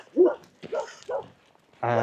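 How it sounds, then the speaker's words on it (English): Dogs in rural inland Spain give a few short, separate barks at close range, with brief gaps between them, followed at the end by a sustained, voiced sound. "Con number two about inland Spain is dogs barking."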